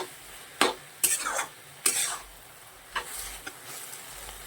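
Fenugreek (methi) greens being stirred in a pan, several sharp scraping strokes with soft sizzling between them, close and uneven in rhythm.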